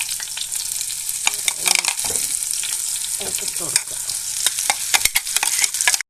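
Crushed chili frying in coconut oil with curry leaves gives a steady close sizzle, with stirring scrapes and pops running throughout, and a few brief spoken words come through partway.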